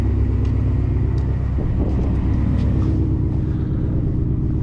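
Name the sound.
modified 2018 Ford Mustang GT engine idling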